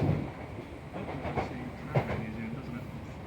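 A passenger train running on rails near Ormskirk, heard from inside the carriage as a steady rumble with intermittent clacks and knocks from the track, plus faint background murmur.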